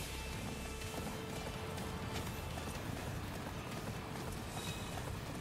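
Hooves pound in a fast, continuous gallop as a horse runs in the action game Attack on Titan 2, a dense, steady drumming under a wash of wind and background noise.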